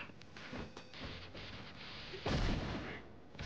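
A grenade blows up in the Urban Reign brawler during a four-player battle: a loud, sudden blast lands late after a run of thumps and scuffles, then fades quickly.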